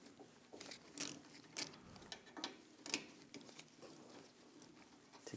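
Ratchet with a 12mm socket removing brake caliper bolts on a 2015-2022 Chevrolet Colorado, a faint run of quick metallic clicks and ticks in uneven bursts, with no talk over it.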